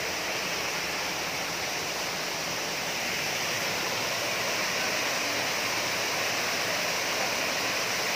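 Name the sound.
Tinubdan waterfall in Catmon, Cebu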